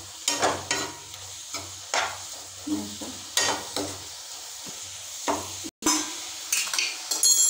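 Fried potatoes being tipped into a pan of cooking pumpkin shoots, heard as repeated scraping and stirring with a utensil against the pan, rhythmic clatters over a soft sizzle.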